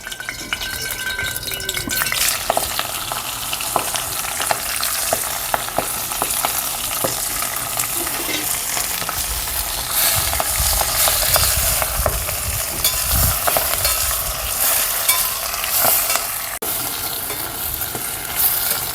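Spinach leaves fry in hot oil in a heated pan while being stirred, a loud continuous close sizzle broken by scraping and clinking of a spoon against the vessel, lasting throughout with no talking.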